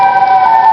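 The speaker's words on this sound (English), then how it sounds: "First is Chicago tornado warning siren." A Chicago tornado warning siren sounds in a brief, loud, steady tone with stacked harmonics, with no voices over it.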